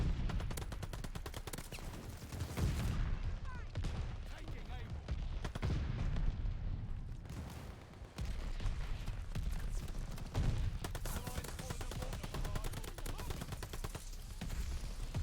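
Rapid, dense gunfire from blind firing in the Call of Duty: Vanguard video game, sustained crackling bursts that barely pause, with a voice talking over the shooting.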